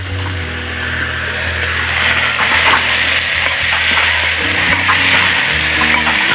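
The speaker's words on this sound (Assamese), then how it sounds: "এয়া কচুৰ ঠেংখিনি আমি এনেকৈ ভাজি ল'ম" Taro stems fry with spices, turmeric and salt in a pan in an Assamese village kitchen, giving a loud, continuous close sizzle with occasional stirring sounds and a low steady hum underneath.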